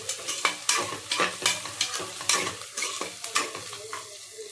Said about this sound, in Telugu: ఇలా 1 నిమిషం బాగా వేగించుకోవాలండి